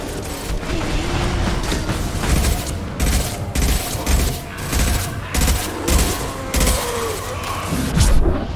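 Heavy gunfire in the video game Mass Effect 2, repeated loud bursts and booming impacts pulsing through a dense battle soundscape, with mechanical clanks between volleys.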